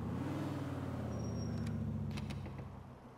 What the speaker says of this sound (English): this is the truck